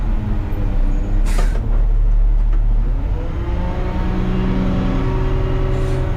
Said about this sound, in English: I'm rolling forward as I'm lifting the forks